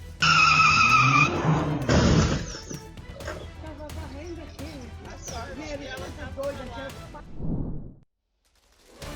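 A pickup truck losing control with tires squealing and skidding loudly for about two seconds, then a run of clattering knocks and impacts. A voice talks over much of it before it cuts to near silence.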